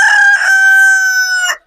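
A desi rooster crowing once, loud and close, one sustained call lasting about a second and a half before cutting off cleanly.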